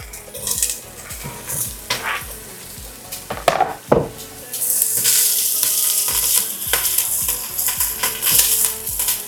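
Sausage pieces tossed into onion already frying in a pan, a Polish zurek soup being cooked, burst into loud broadband sizzling that swells midway, with utensil clinks and scraping stirs repeating throughout, no talking.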